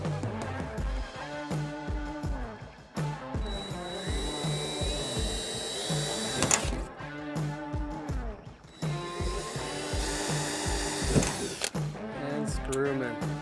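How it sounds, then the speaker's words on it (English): A power drill boring pilot holes while a Bimini top is fitted to a jon boat, with repeated bursts of whirring motor separated by short pauses, close and fairly loud. "Drill some pilot holes."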